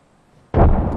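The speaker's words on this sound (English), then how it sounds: "Threw my grenade out." A frag grenade detonates in Apex Legends: half a second of near-silence, then one sudden loud blast that stays dense and roaring to the end.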